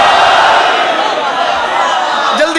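A crowd at a Shia majlis gathering loudly chants the Naara-e-Haidari slogan in one sustained, roaring collective shout that fills the hall.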